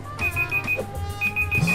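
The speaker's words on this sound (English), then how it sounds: "That's the timer from the previous video." A timer alarm left running from an earlier session beeps in two bursts of rapid, evenly spaced electronic tones, fairly loud over low game music and background hum.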